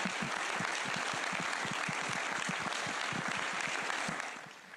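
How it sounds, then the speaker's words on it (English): A room applauds the launch teams after a Vega C rocket flight, a dense, steady round of clapping at a moderate distance that carries on evenly and then starts to fade right at the end. "I would like to ask everybody a big round of applause"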